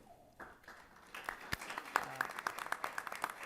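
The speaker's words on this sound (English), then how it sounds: "We'll wait, we'll clap." An audience at a school board of education meeting claps for introduced students, building from a few scattered claps into a brisk round of applause that continues steadily and fairly near.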